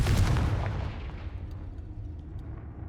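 Hogwarts Legacy Confringo fire spell exploding in a heavy booming blast, loudest at the start and then trailing off into a fading rumble over a few seconds.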